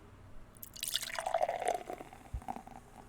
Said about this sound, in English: Nice, slow, easy pour.